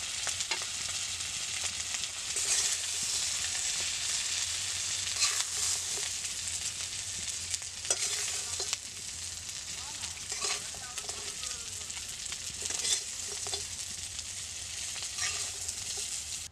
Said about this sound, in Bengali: কাঁকড়াগুলো আমার প্রায় ভাজা হয়ে গেছে